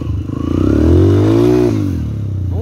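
A motorcycle stuck on sandy ground by a river in Barbosa, São Paulo, revs hard and close, its engine pitch climbing, holding, then dropping back to a rough idle.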